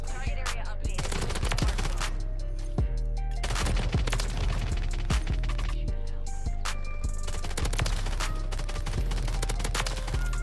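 SMG gunfire in Modern Warfare 3, a double-barrel submachine gun firing loud rapid bursts with sharp cracks and heavy booms, continuous through the stretch with no talk.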